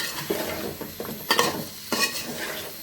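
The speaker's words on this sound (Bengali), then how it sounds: "আর এদিকে মাসকালার ডাল ভেজে নিচ্ছি আমি" Black gram lentils (maskalai dal) dry-frying in a pan, with several sharp scraping stirs and rattles over a soft, steady sizzle, close by and without talk.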